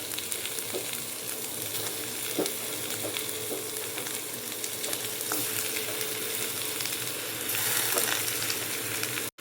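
Quail roast frying and sizzling in a pan, a steady close crackle with occasional stirring scrapes throughout, no talking.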